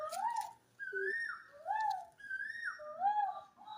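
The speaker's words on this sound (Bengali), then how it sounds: "আর কোকিল ডাকছে বাইরে" A koel cuckoo calls outdoors, repeated rising whistled notes in steady succession, fairly close and clear with no talking over it.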